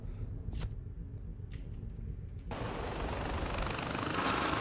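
A helicopter in the video game Far Cry 4 whirs steadily in the background, then its rotor noise swells sharply to a loud, dense, continuous roar partway through, with no talking.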